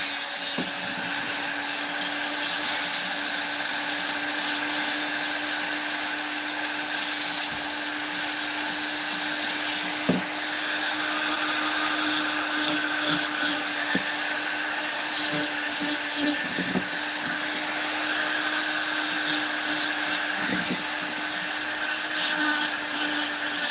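Dremel rotary tool fitted with a fine detail burr carving wood for a gnome house, a steady high-pitched whine running continuously and close by, with small scratchy bumps as the bit bites into the wood.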